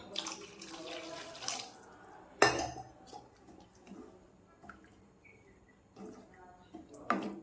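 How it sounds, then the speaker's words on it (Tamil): Water splashing and pouring into a pot of egg kurma curry amid clinks of metal utensils and pans, with bursts of kitchen clatter and gaps of quiet between. "இன்னும் கொஞ்சம் தண்ணி ஊற்றிக்கலாம்."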